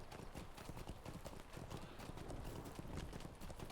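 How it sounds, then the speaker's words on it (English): Horse hooves clip-clop in a steady rhythmic gait during a ride back to Bree, close and continuous, with faint ambient noise underneath. "I'm on a horse ride back to Bree."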